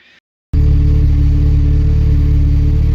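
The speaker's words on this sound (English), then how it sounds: "we got her fired up here. We got one of 3 tunes to try. This one seems to be idling pretty good" A turbocharged Acura Integra engine catches abruptly after a brief silence and settles into a loud, steady, droning idle with a low rumble, close by and with no speech.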